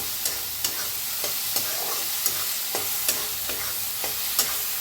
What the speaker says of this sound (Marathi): छान असं भाजून घेऊया कांद्याला.